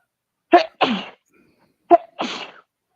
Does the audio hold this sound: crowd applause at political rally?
no